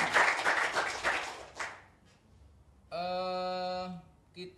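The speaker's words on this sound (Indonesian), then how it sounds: "Tepuk tangan untuk Bapak Rasino." Audience applauding Bapak Rasino, a blind artist, with clapping that fades out over about two seconds, then a sustained tonal musical note.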